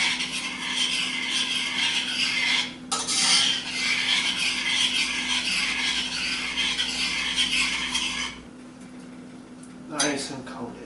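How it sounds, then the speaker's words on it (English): Spoon scraping and stirring cooked pasta through a cheese sauce in a pot for homemade macaroni and cheese, a continuous close rubbing swish with short pauses. "let's get our pasta nice and coated"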